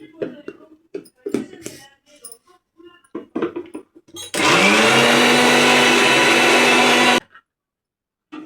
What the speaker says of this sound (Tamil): பொடியெல்லாம் அரைச்சாச்சு. கருவேப்பிலை அரைச்சிட்டேன்.